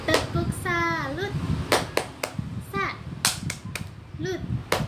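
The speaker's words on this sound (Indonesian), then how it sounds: "Tepuk salut dulu buat mereka berdua." Classroom students doing a rhythmic salute clap during a micro-teaching lesson; sharp, spaced group claps in a patterned rhythm, mixed with children's voices and a sung or chanted cue.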